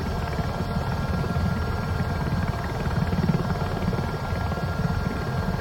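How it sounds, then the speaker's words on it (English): Steady, continuous rotor and turbine drone of a Robinson helicopter in Microsoft Flight Simulator 2024, climbing under added power, with dense low thumping and no voices. "Give this helicopter a little bit more power so we can get some more altitude."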